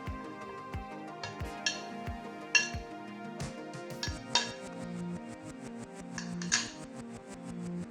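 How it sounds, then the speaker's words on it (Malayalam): Chunks of beetroot are dropped into a metal pot in a Kerala kitchen, making a series of bright clinks and hollow metallic knocks at uneven intervals, close and fairly quiet, with no one talking. "ഈ പാത്രത്തിനകത്തേക്ക് നമുക്ക് ഈ ബീട്രൂട്ട് ഇട്ട് കൊടുക്കാം."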